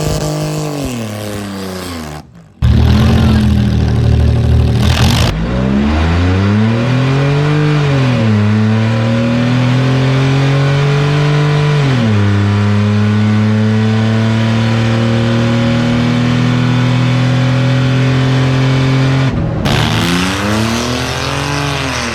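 Loud, close racing car engine revving hard and bouncing off the rev limiter down a track, harmonics climbing and holding in long sustained pulls, with brief drops between runs; no voices.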